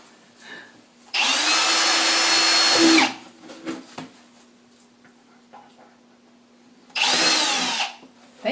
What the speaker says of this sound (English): My dad, Charlie, is going to come over and drill some holes in.